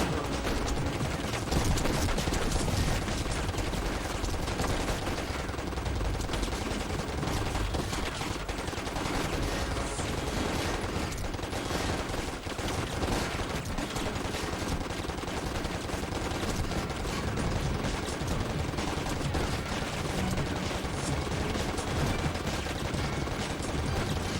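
Dense, continuous gunfire from gangsters in the video game Stranglehold, with rapid machine-gun bursts and overlapping shots filling the whole stretch loudly and without pause.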